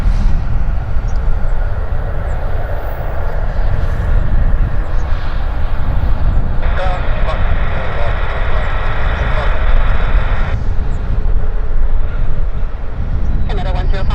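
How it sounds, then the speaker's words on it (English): An airliner touches down at Vancouver Airport with reverse thrust engaged, a loud, steady broadband roar that swells and brightens for several seconds in the middle before easing back. "And he is down. Reverse thrust."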